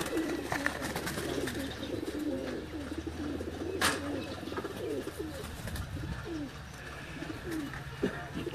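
Soft, repeated cooing from Sialkot pigeons murmurs close by at low level on a rooftop loft, with occasional wing flutters and faint background noise.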